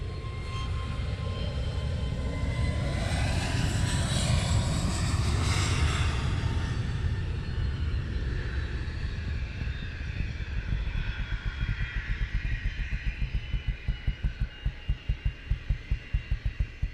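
An airplane taxis at Luton Airport in fog, a loud, broad jet engine roar that swells and then fades into a fainter, pulsing drone, heard alone without talking.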